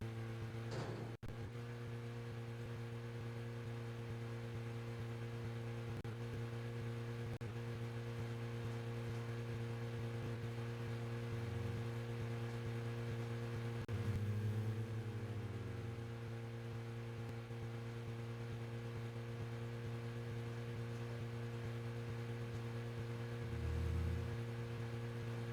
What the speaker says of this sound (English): the sound effect of the car wasn't so obnoxious